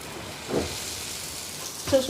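Mutton curry ingredients bubble and sizzle in hot oil, a soft continuous hiss with a few brief louder spits, while a voice talks over it.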